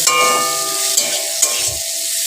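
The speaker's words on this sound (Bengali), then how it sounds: "পটলগুলো একটু ভাজা ভাজা করে নিয়ে পটল বাটা করবো" Pointed gourd frying in a pan gives a steady bright sizzle with a couple of sharp stirring clicks, heard alone without talk.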